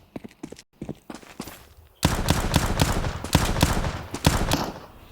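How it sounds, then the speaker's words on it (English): Gunfire in a Counter-Strike match at the IEM Cologne 2024 esports event: a few scattered shots at first, then a dense, sustained burst of rapid firing that runs to the end. "Beautiful headshot from Try."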